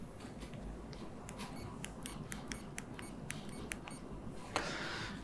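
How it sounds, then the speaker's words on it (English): A quiet, high-pitched electronic beeping from a Miniware ES15 electric screwdriver repeats in short, evenly spaced pulses over a steady low hum, with no voices. "I'll bring it closer to the microphone so you can hear the beeper."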